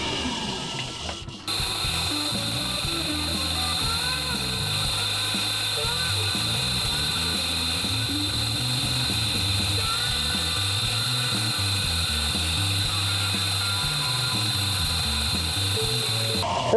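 A belt sander with a jagged, jumping belt grinds a 52100 steel karambit knife, a steady loud mechanical whir with a rattling, ratcheting texture running almost the whole time after a brief quiet start.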